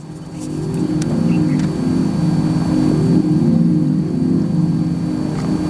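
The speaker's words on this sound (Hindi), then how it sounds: "That is acoustic vehicle alert system." A steady low electronic hum from the acoustic vehicle alert speaker of a stationary 2025 Tata Curvv EV, droning continuously without pause, close and fairly loud.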